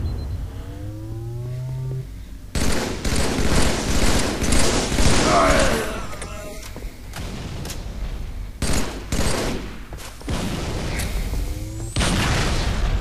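Explosive blasts and bursts of gunfire in a Halo 2v2 MLG match on the Heretic map, including a teammate's thrown grenade, loud and close, repeated in clusters with short gaps, with game-sound whistles and faint voices between.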